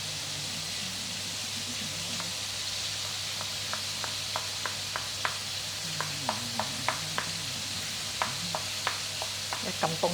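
Two or three whole eggs fry together in a pan, giving a steady, even sizzling hiss throughout, punctuated by a string of light sharp ticks and taps in the second half.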